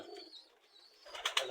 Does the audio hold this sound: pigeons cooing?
yes